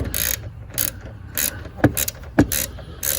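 A ratchet wrench turns the tie-down bolt on a car battery, making loud, close, rapid clicking bursts in short repeated strokes with brief pauses between them.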